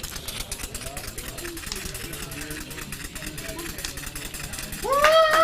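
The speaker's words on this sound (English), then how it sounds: "I promised you raffle drum on live steam." A raffle drum ticket machine driven by live steam runs with a steady rapid chugging and clatter, a sharp whistle-like tone rising near the end.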